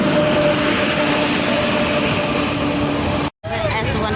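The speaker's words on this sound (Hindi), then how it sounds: "अब हमारी ट्रेन आ चुकी है, ये देखो।" A passenger train pulls into a railway station in India with a loud, steady rumble and hum of rolling carriages, voices faintly mixed underneath, broken by a brief abrupt drop-out near the end.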